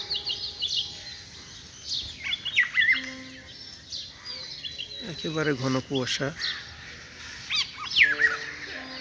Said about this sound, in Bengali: পাখির ডাক শোনা যাচ্ছে কিচির মিচির